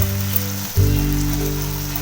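Ginger-garlic paste sizzles in a hot pan for a masala egg omelette curry, a steady close frying hiss that flares louder partway through, with no talking.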